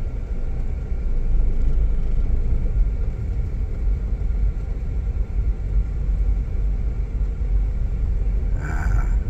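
A Daihatsu Sigra driving in second gear without added throttle, a steady low engine rumble and road noise heard from inside the cabin, even and continuous throughout.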